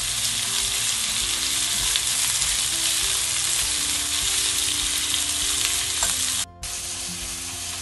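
Onions sauté with salt in a pan for chicken curry, giving a loud, continuous close-up sizzle that dips briefly near the end, with no talking.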